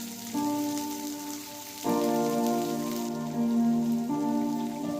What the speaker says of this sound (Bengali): পেঁয়াজটা একটু নুন দিয়ে ভালো করে ভেজে নিতে হবে।